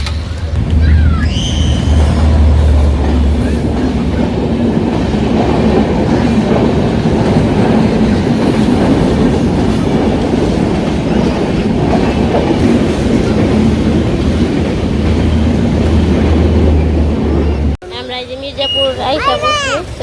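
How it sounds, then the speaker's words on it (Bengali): A train rolls past a railway signal, its wheels drumming in a loud, steady clickety-clack rumble for about eighteen seconds before the scene abruptly cuts to a quieter setting. "সিগনালে তো ট্রেন আসতেছে"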